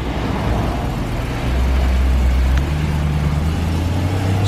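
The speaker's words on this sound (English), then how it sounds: "Just going for a little test drive." A BMW M3 E93 convertible with a V8 engine pulls away on a test drive, its steady low engine drone swelling a little as it drives off, close and continuous with no talk.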